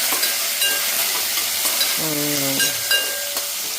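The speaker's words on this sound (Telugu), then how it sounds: "అలాగే అల్లం, పచ్చిమిర్చి, కరివేపాకు అన్నీ కలిపి వేస్తాను." Ginger, green chillies and curry leaves frying in hot oil for upma, a steady close sizzle with stirring scrapes and a brief metallic ring from the pan, with no talking.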